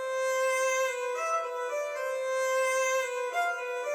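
An expressive cello layer in FL Studio plays long, emotional bowed notes that shift pitch a few times, sustained and smooth, with nothing else beneath it.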